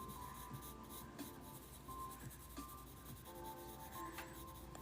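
An Ohuhu alcohol marker squeaks and rubs across paper in short, continuous strokes while colouring, close and faint against a steady low background hum, with no talking.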